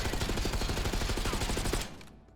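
Rapid automatic gunfire in Black Ops 6, a fast burst of about a dozen close, punchy shots in even rhythm that stops abruptly near the end and leaves a short fading tail.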